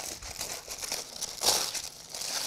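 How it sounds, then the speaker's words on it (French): Crinkly paper or foil being peeled off a sandwich baked inside a whole bread loaf in a small camping oven, a close, continuous rustle with one sharper crackle midway and no talking. "On va déballer notre sandwich rapidement."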